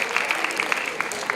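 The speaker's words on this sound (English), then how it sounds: "Congratulations and a huge round of applause to all our distinguished alumni." A hall full of people at an alumni meet claps for distinguished alumni, a brief, dense patter of hands at moderate loudness with scattered sharper claps.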